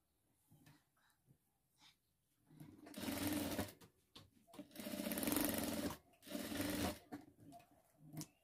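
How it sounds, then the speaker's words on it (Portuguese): A sewing machine stitches the sides of a fabric handbag in three steady whirring bursts of a few seconds each, close and clear, separated by short pauses with light handling noises. "Então, aqui eu vou costurar todas as laterais."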